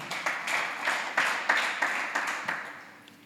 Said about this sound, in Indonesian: Kasih tepuk tangan bagi Tuhan.